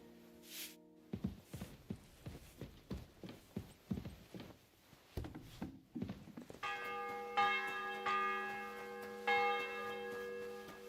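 In the video game Kingdom Come: Deliverance II, a church bell rings repeatedly with a rich harmonic tone, following a run of rhythmic hoof-like clopping footsteps; the chimes sustain and overlap near the end.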